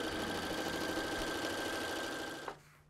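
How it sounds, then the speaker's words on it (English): A sewing machine runs steadily as it stitches a fly front zipper on trousers with the fly shield folded down, a continuous close mechanical whir that stops abruptly near the end. "I'm at my machine and I'm gonna sew with the fly shield down"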